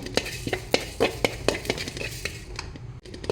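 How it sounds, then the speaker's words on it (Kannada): Cumin seeds dry-fry in a pan without oil for a Kundapura-style chicken ghee roast. A utensil scrapes and stirs in quick, repeated strokes over a faint sizzle, close and moderately loud, and no one speaks. "ಈಗ ಒಂದು ಚಮಚ ಜೀರಿಗೆ ಹಾಕ್ತಿದ್ದೇನೆ ಹಾಕ್ಕೊಂಡು ಚೆನ್ನಾಗಿ ಫ್ರೈ ಮಾಡ್ಕೊಳ್ಳಿ"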